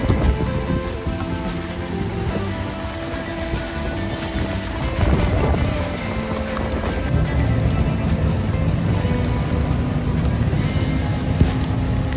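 Steady patter of light rain falling on surfaces at an outdoor car show, a continuous soft hiss with scattered drips throughout.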